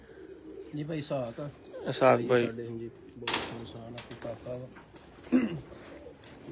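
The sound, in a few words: pigeons cooing on rooftop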